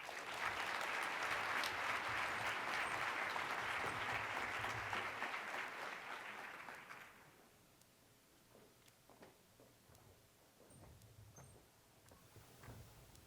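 Audience applause welcoming a keynote speaker to the stage at a farm-to-cafeteria conference: steady, dense clapping from a large crowd for about seven seconds, then fading to scattered claps and room noise.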